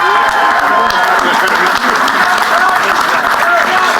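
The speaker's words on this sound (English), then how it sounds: "considering everybody's standing up as they clap, does that count as a standing ovation for me" A standing audience applauds at a day-of-honor ceremony, producing dense, loud, continuous clapping from a large crowd with faint voices mixed in.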